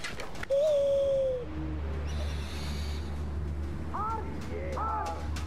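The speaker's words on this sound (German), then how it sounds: "Arg, Eule." An owl hoots in a Far Cry Primal wilderness scene, a few soft, low calls in the second half over a steady background rumble, with a whistling bird call near the start.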